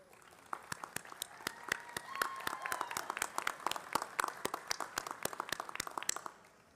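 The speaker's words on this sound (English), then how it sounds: "give a round of applause to those who helped you get here." An audience applauds at a graduation convocation and hooding ceremony. The clapping is steady and builds, with crisp individual claps heard slightly distant, then fades out near the end.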